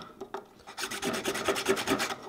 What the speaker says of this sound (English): Can you maybe use the file or something to square it in?